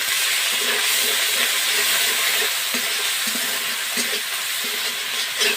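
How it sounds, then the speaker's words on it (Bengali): Onion and ginger paste frying in oil for a hilsa biryani gravy, a loud steady sizzle and hiss with occasional stirring scrapes, no talk. "ভালো করে পেঁয়াজটা কষিয়ে নেব।"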